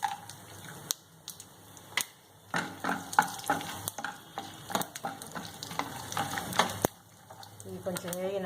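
Cashews, chana dal, peanuts and dried red chillies fry in hot oil as a tempering for coconut rice: a steady close sizzle broken by repeated scraping and stirring strokes in the pan.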